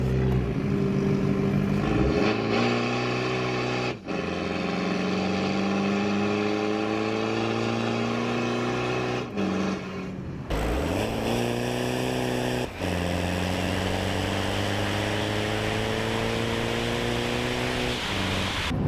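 A Chevrolet Colorado ZR2 diesel pickup with a hood stack exhaust cruises at about 40 mph, its engine droning loud and steady, the pitch rising through the gears with brief dips at the shifts.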